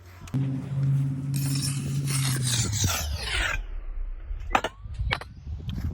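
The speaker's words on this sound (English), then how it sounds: "Hit them with the mag, liven them up" A magnesium float scrapes and rasps across fresh concrete on the tops of pillars in a steady rough stroke lasting a few seconds, followed by a few scattered knocks and scrapes, with no talk.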